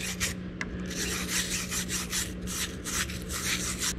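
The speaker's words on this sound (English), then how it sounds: "I'm gonna just run a little half inch pipe cleaner through this hole just to get it all cleaned" A half-inch pipe cleaner is pushed back and forth through a hole in an International Harvester 1066 tractor's main shaft housing, giving a close, steady scratchy rubbing with soft rhythmic strokes.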